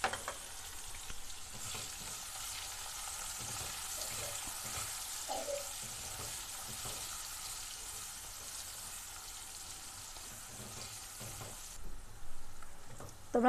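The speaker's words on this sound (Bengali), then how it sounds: "দেখতে পাচ্ছ পেঁয়াজগুলো দিয়ে আমি একটু লাল লাল করে নেব" Chopped onion fries in oil with cumin, bay leaf, cardamom and green chillies for a katla fish curry, a soft continuous sizzle with occasional stirring scrapes, fairly faint and steady.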